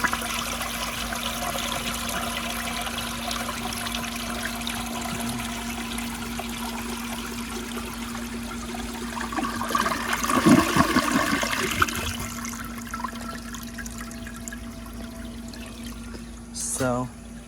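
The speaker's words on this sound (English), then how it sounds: "I'll give you a close-up flush like this" A 1959 American Standard Master one-piece toilet flushing up close, a steady hiss of water building to a louder rushing surge near the end over a constant low hum.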